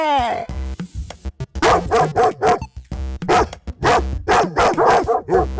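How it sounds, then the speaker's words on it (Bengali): A cartoon dog barks and yips in quick repeated bursts as it attacks, loud and close, mixed with a strained, whimpering cry. "কুকুরটা আমাকে খেয়ে ফেললো রে"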